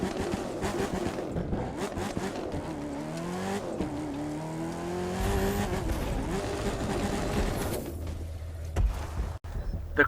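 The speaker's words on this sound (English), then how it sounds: "The Crew 2's monster trucks are really cool." Monster truck engine in the video game The Crew 2, revving and whining with rising pitch sweeps and some tire noise, loud and continuous with no talking.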